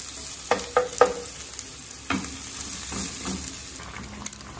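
Garlic, chili and onion frying in a hot pan for fried rice, a steady soft sizzle with several sharp stirring scrapes and clinks near the start and a few more later.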